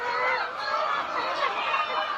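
Chickens on a poultry farm, a dense continuous chorus of clucking and chatter from many birds at moderate distance, with no clear single call standing out.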